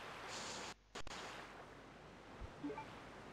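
Rushing waterfall water in Resident Evil 2, a steady broadband roar that cuts out briefly, then continues alone with faint clicks.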